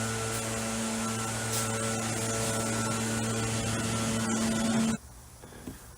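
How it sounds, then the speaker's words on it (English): A blower droning steadily nearby with a constant hum and hiss that cuts off abruptly near the end, leaving quieter room noise. "I have to stop for a minute till this blower gets done."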